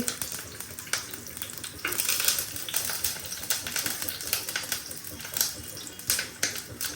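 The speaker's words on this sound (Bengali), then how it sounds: "তো ফার্স্টে রসুন ফোড়ন দিয়ে দিচ্ছি, বাবা ছিটছে।" Garlic tempering sizzles and spatters in hot oil in a pan, a steady broadband crackle with sharp pops scattered throughout, close and fairly loud.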